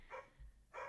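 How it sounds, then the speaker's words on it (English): A dog barks twice in the background, faint and somewhat distant, with short sharp barks about half a second apart. "I'm sorry about the dog barking."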